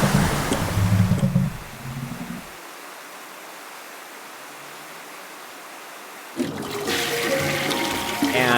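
In Fishy 3D, water rises after a drain plug is pulled: a rushing, surf-like wash of water, loud at first, then a long hollow hiss, then a bright splashing surge near the end.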